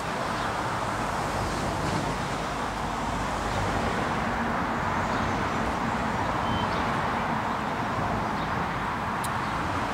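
Road traffic heard from a garden near woodland: a steady, distant wash of passing vehicles forms a constant broadband hum, with faint birdsong chirps occasionally on top.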